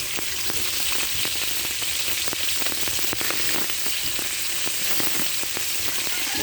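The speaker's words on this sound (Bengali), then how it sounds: "মাছের পরিমাণ মতো লবণ, হলুদ আর শুকনো মরিচের গুঁড়া দিতে হালকা দিয়ে ভেজে নিচ্ছি" Magur fish fries in oil with salt, turmeric and dried chili powder, giving a loud, close, rain-like crackle of spitting oil that stays constant throughout with no voices.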